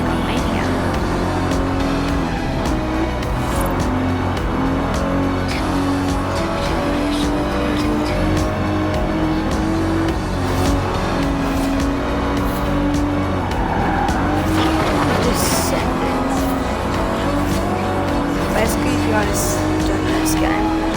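Car engine roaring continuously through Forza Horizon 4 gameplay with squealing tires and skids, loud and steady under a speaking voice.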